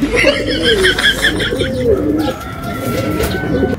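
Racing pigeons coo in throaty, rolling calls close by, overlapping and repeating, with some rustling in the background.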